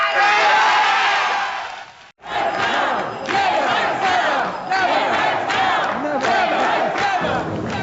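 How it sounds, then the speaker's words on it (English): A packed city council chamber crowd roars with boos and cheers, the loud, continuous din breaking off for an instant before swelling back to a sustained uproar. "A cacophony of boos, cheers, stamping feet, and clapping hands filled the City Council chambers"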